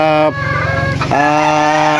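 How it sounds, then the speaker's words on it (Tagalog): Chickens clucking and calling with a drawn-out harmonic cry, a busy flock sound filling the space with steady poultry chatter. "patuloy pa rin nangingitlog yung ating mga manok dito"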